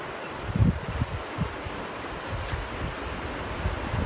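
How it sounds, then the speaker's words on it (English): White surf rolls in along the rocky Tasman coast at the tessellated pavement shoreline, a steady broadband wash of waves mixed with wind buffeting the microphone, with no voices. "White surf on the water."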